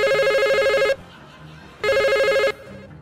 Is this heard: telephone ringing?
yes